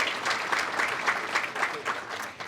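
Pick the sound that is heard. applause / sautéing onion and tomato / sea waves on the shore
applause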